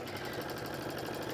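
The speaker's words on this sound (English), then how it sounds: "I'm just going to keep on sewing here, aligning my edges, matching that fold, and doing a little bit more sewing" A sewing machine stitches fabric for a column quilt, giving a brief, steady, even whir with a fine rhythmic chatter and no voices.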